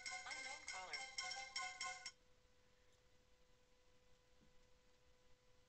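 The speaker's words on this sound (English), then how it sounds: "Sorry about the phone." Phone ringtone from a call by an unknown caller during a Fishing Planet session at White Moose Lake: a bright repeating melodic ring played loudly for about two seconds, then cut off, leaving a faint steady hum.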